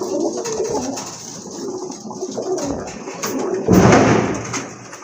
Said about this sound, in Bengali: এটা হচ্ছে আপনার এক জোড়া ইন্ডিয়ান বোম্বাই কবুতর।